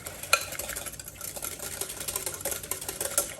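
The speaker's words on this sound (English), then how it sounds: "I'm going to beat that up real good." Cream is beaten in a glass container for keto tiramisu, a rapid rattling whisk-and-scrape close up with quick irregular clinks against the glass and no voices.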